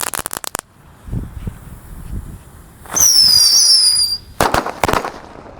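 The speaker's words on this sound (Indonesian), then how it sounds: "lanjut yang kita nyalakan di sini ada tikusan Thor. Kita nyalakan satu pak." A Thor 'tikusan' firecracker pack set off outdoors: a few sharp pops, then loud shrill whistling and crackling at close range for about a second, followed by another burst of pops.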